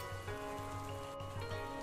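Steady, dense rainfall patters over the forest scene of the video game Dragon Fin Soup, a constant soft hiss with no voices.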